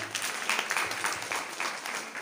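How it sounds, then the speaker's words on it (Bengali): Audience at a youth convention applauds a class 12 student: a steady, even patter of many hands clapping, moderately faint and continuous throughout, with no voices over it. "বাহ, জোরে হাত তালি।"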